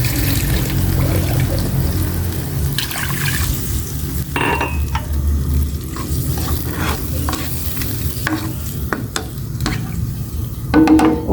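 Pork cubes simmer and sizzle in a pan as more water is added, a steady bubbling and frying hiss with occasional scrapes and clinks of a utensil against the pan, close and continuous.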